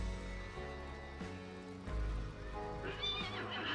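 A horse neighs in a zombie survival video game, a whinny rising over steady game music and background sound, loud and near.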